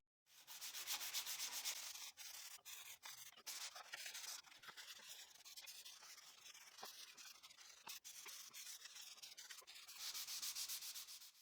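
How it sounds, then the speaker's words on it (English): Steady back-and-forth rasp of 220 grit sandpaper worked over wooden pieces by hand, close and continuous with brief pauses, no talking. "Next, I'll sand everything using 220 grit sandpaper, making sure not to sand where the pieces will be joined."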